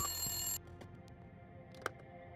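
A phone rings late at night in a visual novel, with a short bright electronic ringing burst that cuts off abruptly, followed by a quiet background hum and a single soft click.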